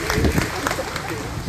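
Applause from a crowd at a public relief goods distribution event, a dense steady clatter of clapping with voices mixed in, heard up close and fairly loud throughout.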